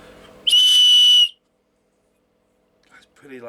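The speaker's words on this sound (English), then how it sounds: "One of them is a survival whistle." A loud, piercing survival whistle blast lasting under a second, preceded by faint talk and followed by silence and then a voice starting to speak.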